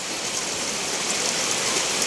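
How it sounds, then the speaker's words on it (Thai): Heavy storm rain pours down steadily in Phuket, a dense, loud hiss of drops with no pauses and no voices. "นี่ฝนตกหนักมากเลยนะคะ"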